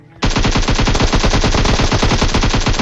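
Automatic gunfire rattles continuously in the Free Fire mobile game, a dense loud burst of rapid shots starting abruptly after a brief quiet moment and holding a steady fast rhythm to the end.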